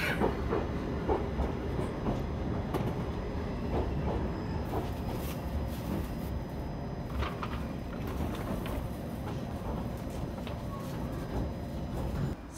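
A JR Ban'etsu West Line rapid train rumbles and clatters steadily at Koriyama station, with continuous wheel and engine noise and faint high squeals throughout.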